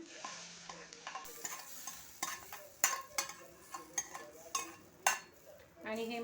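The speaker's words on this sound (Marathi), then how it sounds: "आता आपण या चटणीमध्ये आपली फोडणी टाकून देऊया" Hot tempering poured into amla chutney, then stirred with a spoon: a soft sizzle under repeated sharp clinks and scrapes of metal on the pan, close and irregular, with a little voice in the background.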